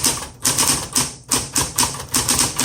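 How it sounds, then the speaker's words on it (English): A 1970s Smith Corona Coronet Super 12 electric typewriter types in loud, close bursts of rapid key strikes, each cluster followed by a brief gap, with no voices. "When you make a mistake, you just backspace and type over it."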